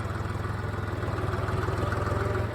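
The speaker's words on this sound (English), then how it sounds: "This is only like a 40 horsepower tractor." A 40 horsepower tractor engine idles close by with a steady, even low chug pulsing throughout.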